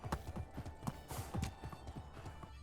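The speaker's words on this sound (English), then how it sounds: "let's ride the horse back over to the stables." Rhythmic clip-clop of horse hooves while riding in the video game Medieval Dynasty, steady and moderately close, with a faint neigh and no talking.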